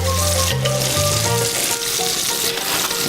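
Steak frying in a pan over medium heat, a loud steady sizzle with faint tonal hum from a nearby appliance, no talking.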